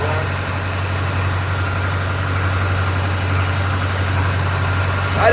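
A boat engine runs steadily at a loud, even idle, a constant low rumble with no change in rhythm, heard close up and alone without any talking.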